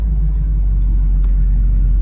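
A 1968 Chevrolet Camaro RS convertible cruises along, its engine giving a steady low rumble with a constant road drone throughout.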